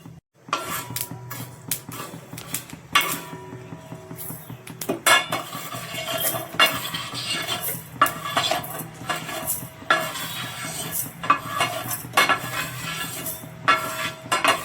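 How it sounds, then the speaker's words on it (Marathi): A metal spoon scrapes and clinks against a pan while roasted whole garam masala spices for a mutton curry are moved into a mixer jar, a busy, close, continuous rattle with no talking. "आता मी हे मसाले काढून घेणार आहे मिक्सरच्या भांड्यामध्ये"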